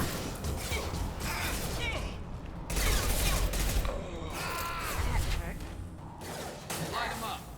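Shotgun blasts and weapon clatter in a Mass Effect 2 firefight, several sharp bursts over a busy mix of combat noise, with people talking throughout.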